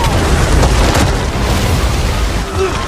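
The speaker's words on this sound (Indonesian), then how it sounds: "Jiuming kemudian berusaha menghabisi Kraken dengan sebuah peledak" A deep, rumbling boom fills the short clip, a loud blast with a dense low roar that stays heavy throughout.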